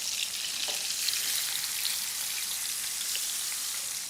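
Vegetables and spice paste sizzle and fry steadily in a pan for an Indian dish, a dense, continuous crackling hiss with no pauses, close and fairly loud.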